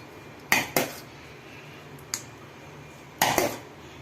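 An oiled metal plate holding raw mango pulp is swirled and tilted to spread the pulp, giving a few sharp metallic clanks and scrapes in two clusters. Each one stands alone against a quiet background.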